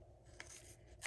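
Scissors trim small leftover pieces of card stock, giving two quick, faint snips in a quiet room.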